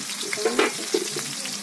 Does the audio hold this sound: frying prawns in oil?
yes